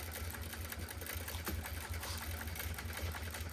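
Sewing machine stitching quilt binding, a close steady rapid whirring and pulsing motor rhythm running continuously, no talk.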